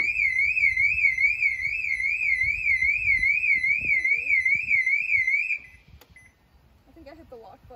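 A 2003 BMW 530i E39 car alarm wails close and loud with a rapidly warbling electronic tone for over five seconds, then cuts off, leaving quiet handling noises and a brief faint chirp.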